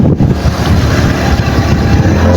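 A boat engine reverses through flood water, a loud close drone churning over wind buffeting and splashing, steady across the short span.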